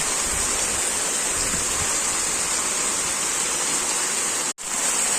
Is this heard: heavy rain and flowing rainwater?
yes